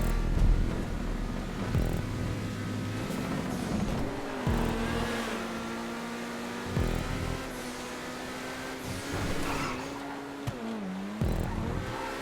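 A Turismo Classic car driven around a race track in GTA 5, its engine humming steadily with revs rising and dropping through gear shifts, loud and continuous throughout.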